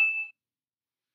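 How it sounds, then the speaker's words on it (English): A short bright electronic ding of an email notification, like Gmail's alert, rings once and alone for about a third of a second before silence. "that's the sound of a notifier for email or Gmail"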